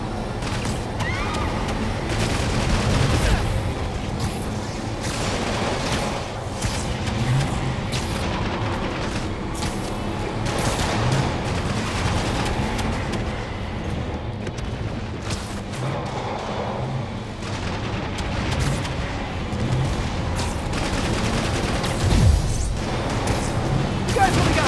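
Enemies open fire in a chaotic Marvel's Spider-Man Remastered fight in the financial district, with repeated booming gunshots and crashes layered under steady combat noise and occasional voices.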